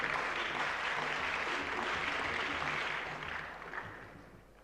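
Audience at a national public speaking competition grand finale applauding a judge, a broad, continuous round of clapping that holds steady and then tapers off over the last couple of seconds.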